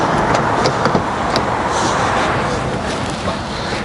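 A salvaged Porsche 992 Carrera S rolls slowly into a garage, a short, moderately loud burst of vehicle noise with a few clunks and rattles over a broad rushing hiss.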